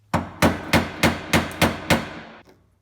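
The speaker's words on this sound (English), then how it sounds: "And some hammer taps." Seven sharp hammer taps strike a large screwdriver set against a seized rear hatch latch on a 2007–2008 Honda Fit, evenly spaced, loud and close, each ringing briefly.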